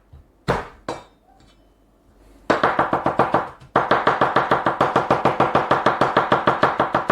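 A knife chopping onion and garlic into chunks on a board: two isolated knocks, then a fast, steady run of sharp close chops, pausing briefly before continuing in an even rhythm, with no talk.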